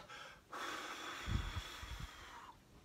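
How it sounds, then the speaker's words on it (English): A person forcefully exhales all the air from their lungs during an exercise demonstration: a long, steady, breathy rush lasting about two seconds that ends abruptly, with no talking. "you're going to exhale all the air out of your lungs"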